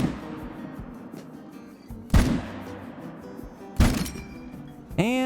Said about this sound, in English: I think he might have actually stopped right as I shot